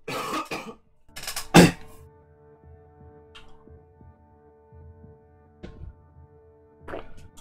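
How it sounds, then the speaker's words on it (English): A few sharp, close coughs near the start, followed by a low humming drone with soft thumps and another brief cough later. "I'm gonna cough"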